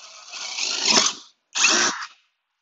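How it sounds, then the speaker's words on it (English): A power drill fitted with a 5/16 inch wood bit bores in two bursts, a longer whining run followed by a brief pause and a shorter second burst, loud and close with no talk. "And I'm only going to drill"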